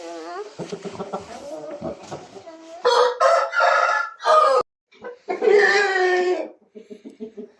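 Purebred fighting roosters, heavy birds around four and a half kilos, crow loudly several times in a row, long drawn calls standing alone with brief gaps and a few softer clucks at the end.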